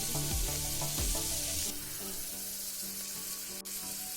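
Onions frying in oil in a pan for biryani, a steady close sizzle with a few clanks of stirring early on, no talk.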